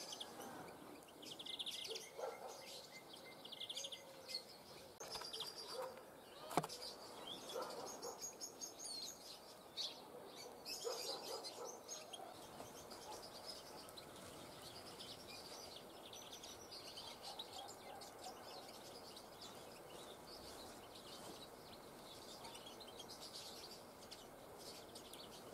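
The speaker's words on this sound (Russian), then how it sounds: "Воробушки собирают отходы от попугая." Sparrows feed on scraps scattered under a trap net at an outdoor bird-trapping site in November, giving faint, scattered chirps and tweets over a steady hiss of background noise.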